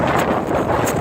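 Strong blizzard wind on the Brooklyn Bridge in New York, loud buffeting gusts roaring against the microphone without pause.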